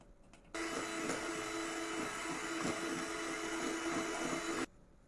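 Electric hand mixer beating cake batter with sugar and oil, a steady continuous motor whir with a faint tonal hum, running about four seconds after a brief quiet start and stopping abruptly.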